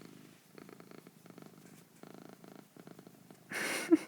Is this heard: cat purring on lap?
yes